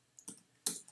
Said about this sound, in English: So we're just going to type your email at